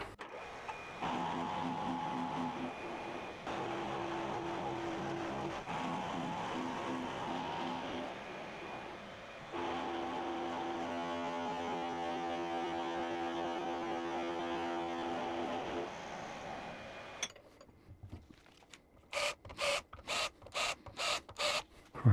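Machining the second side of flipped steel T-nut blanks on a mill: a steady, loud mechanical drone with tonal cutting whine for about seventeen seconds, then it stops and a series of short, regular bursts follows.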